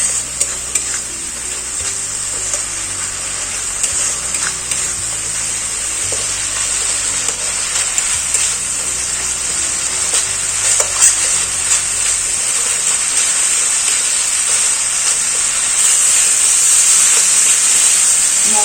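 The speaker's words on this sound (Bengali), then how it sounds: "মশলাটা একটু কষিয়ে নেব" A spice masala of turmeric, coriander and cumin powder, ginger paste and a splash of water is sautéed in a pan for mutton kosha, giving a continuous close sizzle with repeated stirring and scraping, no talk.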